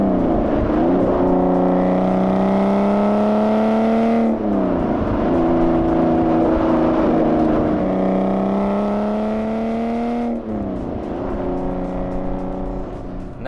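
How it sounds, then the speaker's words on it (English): A 2005 Aston Martin Vanquish S with a V12 and six-speed manual revs hard through the gears in a car, loud rising engine tones climbing, dropping at each shift, then climbing again, with no talking. "this V12 absolutely sings"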